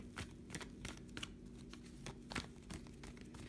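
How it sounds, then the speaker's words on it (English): Tarot cards being shuffled by hand, a run of soft irregular riffles and flicks, fairly quiet and close, with a faint steady hum in the background. "We're going to be first shuffling the cards"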